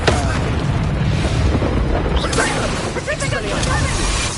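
Expulso exploding spell blast in Hogwarts Legacy, a loud rumbling boom amid continuous busy combat noise and game sound, with a voice calling out.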